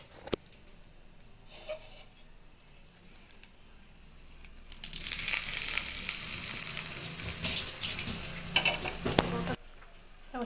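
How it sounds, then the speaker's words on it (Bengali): Hot cumin tempering poured over a dish in a home kitchen bursts into a loud, steady sizzle that swells mid-way and holds for several seconds before cutting off, after a quieter stretch of faint kitchen noise. "এবার একটু জিরের ছোঁক দেবো, করে আনি তারপরে ঢেলে দেবো।"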